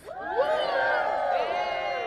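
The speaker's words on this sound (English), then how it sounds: "If you're wearing a school uniform, can you give us a big cheer, please?" A crowd of about a hundred people, many of them young people in school uniform, lets out a loud burst of cheering and whooping outdoors near 10 Downing Street, overlapping voices sustained for about two seconds.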